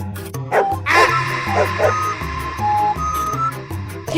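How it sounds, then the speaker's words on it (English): Cartoon dog barking over bouncy background music, several short yips and bow-wows standing out clearly above the steady beat. "Dog."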